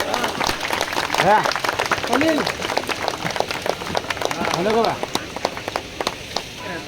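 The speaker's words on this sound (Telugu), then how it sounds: "అందరూ చప్పట్లతో చప్పట్లు కొడదాం" Crowd applause for teachers at an honouring ceremony, steady dense clapping throughout with sharp individual claps standing out, while a voice speaks intermittently over it.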